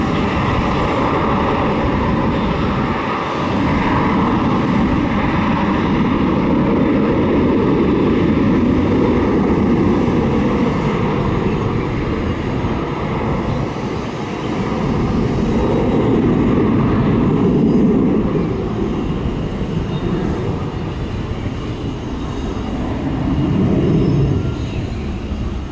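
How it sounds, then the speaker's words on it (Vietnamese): A Silkway West Boeing 777F cargo jet takes off from Tan Son Nhat airport, a loud, continuous engine roar and rumble that swells and recedes with broadband wind noise throughout. "Còn bây giờ chiếc máy bay đã được lệnh cất cánh rời khỏi sân bay Tân Sơn Nhất."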